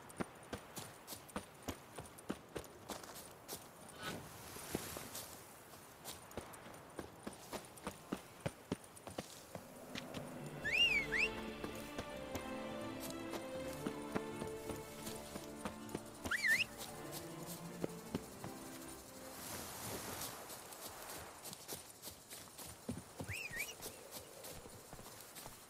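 Roach the horse in The Witcher 3 clip-clops along in a steady run of hoofbeats, with a stretch of music or ambience swelling in the middle and occasional faint whinnies.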